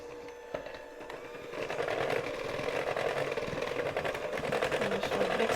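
An electric mixer beats chocolate cake batter with milk, a steady motor whir that starts quietly and grows louder and fuller after the first second and a half, running continuously to the end.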